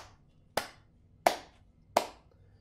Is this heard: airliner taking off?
no